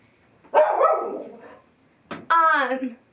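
Dogs bark alone in two close, loud bursts, the second ending in a higher, whining yip.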